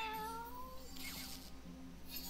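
A cat meows in the card game Path of Champions, a short rising-and-falling call heard alone over a quiet, steady game background, with a second faint mew near the end.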